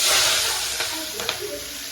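Curry leaves drop into hot tempering oil for dahi tikhari and burst into a loud, close hissing sizzle that eases off over two seconds, with a few faint crackles.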